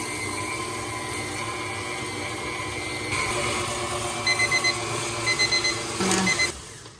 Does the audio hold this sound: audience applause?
no